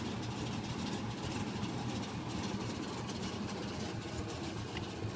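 A car engine idles steadily after being kick-started, a constant low, rough rumble that stays even throughout, alone without talk.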